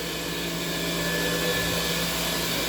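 A Rotovac Bonzer carpet cleaning machine runs on soiled commercial carpet, giving a steady, loud, unbroken whirring drone that holds even throughout with no voices.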